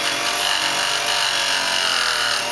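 A mini bench grinder and polisher with a flexible shaft runs at low speed, giving a steady whirring drone with a high whine, loud and unbroken throughout.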